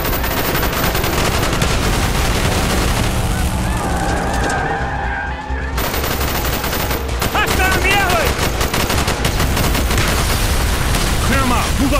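Covering gunfire in Call of Duty: Black Ops street combat: loud, sustained automatic bursts and shots layered with engine and skidding noise, with a voice shouting over the chaos.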